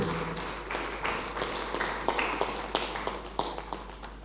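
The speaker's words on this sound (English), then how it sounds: "A better round of applause for the Vice Chancellor." Scattered applause from an audience at a medical sciences university's Innovation Day and Founder's Week ceremony, honouring the Vice Chancellor: a steady patter of moderate hand claps lasting several seconds, with sharper individual claps standing out.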